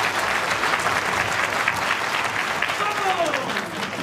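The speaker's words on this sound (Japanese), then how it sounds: "大きな拍手での応援を何卒よろしくお願いいたします。" An audience applauds at a RISE kickboxing event in Japan with sustained, dense clapping that fills the hall and fades a little near the end, while a voice speaks over it.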